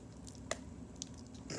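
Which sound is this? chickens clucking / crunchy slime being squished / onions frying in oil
crunchy slime being squished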